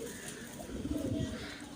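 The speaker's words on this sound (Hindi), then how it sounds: "लांग कांग का कबूतर है" A Long Kong pigeon coos softly, a low burbling call rising and fading once against a quiet background.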